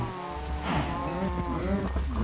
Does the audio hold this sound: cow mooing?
yes